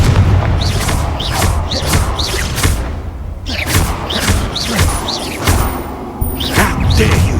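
Repeated Confringo blast-curse explosions in Hogwarts Legacy: loud booming bursts arrive in quick succession with whooshes and thuds, a dense and continuous barrage.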